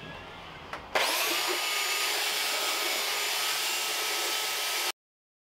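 A belt sander runs on a wooden pizza peel, starting abruptly after a faint click and holding a loud, steady whine and rasp for about four seconds before cutting off.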